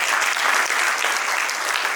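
A hall full of attendees at the Africa Trading Summit claps loudly, a dense, continuous wave of applause with no individual voices standing out.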